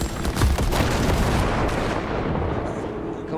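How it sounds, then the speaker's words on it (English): Gunfire from enemies in Cyberpunk 2077 crackles in dense, overlapping bursts with heavy low-end booms, loud and close for the first seconds before easing slightly. "They're shooting at me!"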